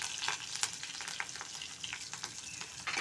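Cumin seeds, curry leaves and turmeric sizzle in hot oil as a tempering for kokum curry, a steady loud crackle that runs unbroken for the whole stretch with small pops scattered through it and no voices.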